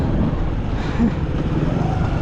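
A Hero Passion Pro motorcycle engine, running low on petrol in a Gujarat forest, rumbles low and unevenly nearby, its note wavering as it runs rough.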